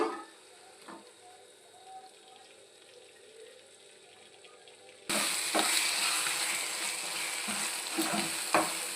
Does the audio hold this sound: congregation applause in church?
no